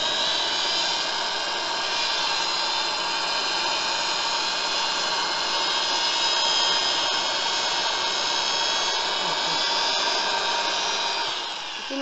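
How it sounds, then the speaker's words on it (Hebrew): An electric drill bores through a book for bookbinding with a steady, loud, high-pitched whine that holds constant for the whole stretch. "מתחילים לקדוח."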